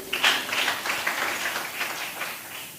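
Brief burst of audience clapping at the finale of a Banyamulenge cultural competition, many hands at moderate distance for a few seconds.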